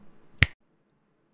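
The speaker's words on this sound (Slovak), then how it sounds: "stačí mi lusknúť prstom a príjem tam" A single sharp finger snap cracks out clearly, followed by near silence and the start of another sharp transient at the very end.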